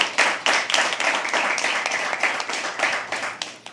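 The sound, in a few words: audience applause at poetry open mic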